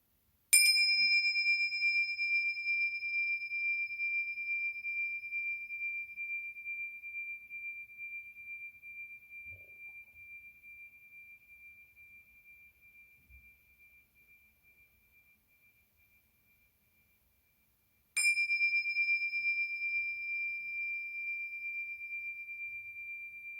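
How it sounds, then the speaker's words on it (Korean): A meditation bell is struck twice, about seventeen seconds apart. Each strike gives a clear, pure ring that lingers and slowly fades almost to silence before the second strike rings out in a quiet room. "먼저 종소리에 마음 모으는 시간을 갖도록 하겠습니다"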